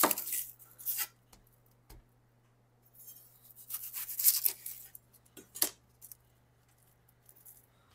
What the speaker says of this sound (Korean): 자, 우선은 이 양파부터 썰어 볼게요.